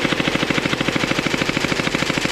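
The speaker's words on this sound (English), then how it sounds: "This is the HydroStrike Pulsar Pro, and this gun is not very quiet either." A HydroStrike Pulsar Pro gel blaster firing on full auto, a loud, fast, steady stream of sharp cracks at roughly eight to ten shots per second, close and unbroken.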